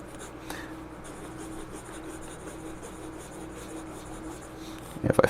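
Fountain pen scratching across paper with Colorverse Aurora Borealis ink, a steady faint rubbing texture throughout, ending in a few louder handling knocks near the close.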